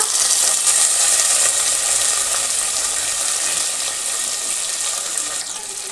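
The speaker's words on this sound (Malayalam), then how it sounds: "ഇനി ഇതിലേക്ക് ചെറുതായി അരിഞ്ഞു വെച്ചിരിക്കുന്ന ചെറിയുള്ളി ചേർത്ത് കൊടുക്കുക" Chopped shallots hitting hot oil with curry leaves in a pan for Kerala ulli theeyal, giving a steady loud hiss of sizzling that eases slightly over several seconds, with no talking.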